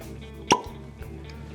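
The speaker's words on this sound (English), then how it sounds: "Pause for cork pop." A single sharp pop as a cork is pulled from a Heaven Hill whiskey bottle, a brief hollow plop standing out clearly above a quiet room.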